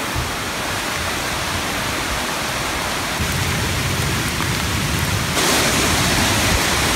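Torc Waterfall in Ireland roars with a steady, dense rush of falling water, close and loud throughout, swelling slightly stronger toward the end with no voices over it.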